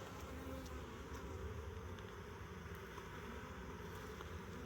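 Honey bees buzz steadily around an open hive during an inspection, a soft continuous drone with no talk over it.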